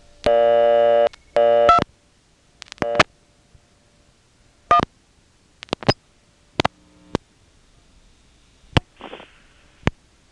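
A payphone call dialed through an independent step-by-step telephone exchange in Nantes, Quebec: two long busy-tone bursts, then a series of sharp isolated clicks and clunks of switching relays, one short noisy rustle, then quiet line.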